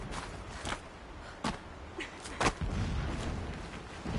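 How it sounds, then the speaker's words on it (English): Distant explosions in Horizon Zero Dawn, a series of muffled booms and sharp cracks scattered over a low rumbling background, several spaced irregularly, moderately faint and far off. "Explosions in the distance."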